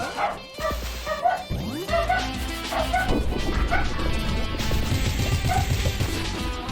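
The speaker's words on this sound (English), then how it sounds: "What the dog doing?" A cartoonish dog barks and yips in the Pizza Tower video game amid chaotic game sound effects, crashes and music, with several quick barks in a dense, loud mix.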